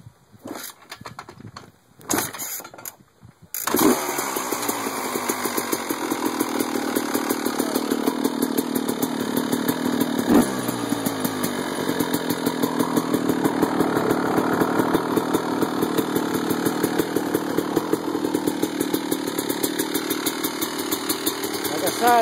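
A 1994 Yamaha YZ250 two-stroke dirt bike is kicked a few times, then catches and runs with a steady buzzing idle close by, continuing loud and even for the rest of the stretch.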